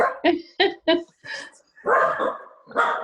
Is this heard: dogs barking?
yes